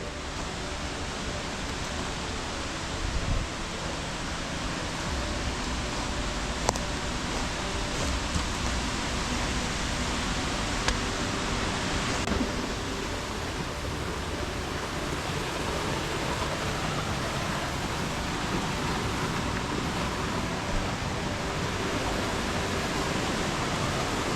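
A constant, broadband roar of falling water at a creek waterfall in rugged terrain, steady and unbroken throughout, heard from fairly close.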